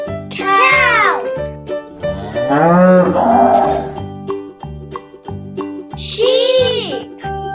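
Cows mooing on a farm, two long drawn-out lowing calls near the start and end with a shorter call between, loud and close over a steady pulsing background rhythm.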